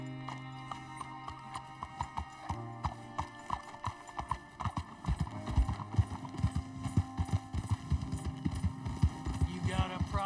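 Horse hooves clip-clop at a steady trot in Red Dead Redemption 2, the rhythm quickening and growing louder over a low hum, with a brief whinny near the end.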